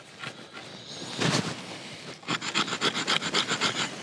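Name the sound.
Camillus Swedge knife scraping fatwood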